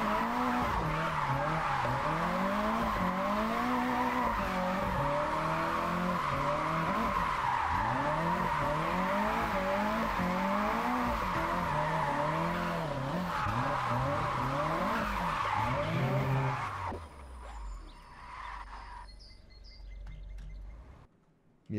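A car drifting in the Japan-set open-world racing game Japanese Drift Master, with continuous loud tire squeal and wavering engine revs for most of the stretch, cutting off abruptly to quiet near the end.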